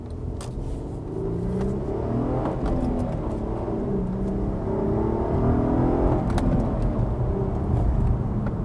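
A manual fourth-generation Acura TL SH-AWD pulls hard in first gear, its engine note rising steadily and loudly under a continuous drone of road and cabin noise, with no one speaking.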